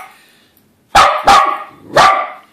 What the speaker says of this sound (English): Puppy, why are you fussing at that helicopter?